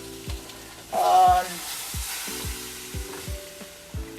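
Squid pieces sizzle on a grill, a close hiss that flares loudly for a moment, with a series of sharp rhythmic taps or knocks sounding throughout.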